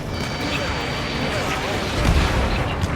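Weapons firing in the jet combat game Ace Combat 7, a dense continuous rumble of gunfire and explosions that swells louder near the end, with radio chatter mixed in.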